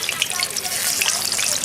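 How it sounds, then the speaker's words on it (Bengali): Parboiled potatoes fry in oil left from frying onions for chicken biryani, a loud, close, steady crackling sizzle throughout. "এবারে পেঁয়াজ ভাজা তেলের মধ্যে আমি আলুগুলোকে একটু ভেজে নেবো হালকা করে।"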